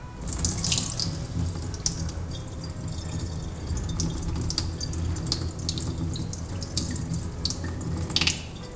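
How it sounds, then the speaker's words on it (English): Water splashes and trickles steadily as it drains from the cup of a rice dispenser, with a few louder gurgles and drips near the start and end. "if I pour out the liquid on this side, you can see the water will start to come out"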